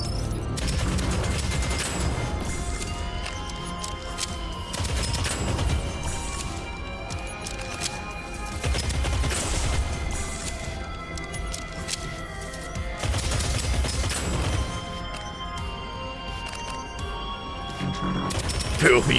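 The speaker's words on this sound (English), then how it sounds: "Oh yeah, it's an auto. It's basically an assault rifle." Repeated bursts of automatic assault rifle fire in the sci-fi shooter Deadzone: Rogue, loud rattling volleys every few seconds mixed with crashes and impact sounds over a continuous busy game soundscape.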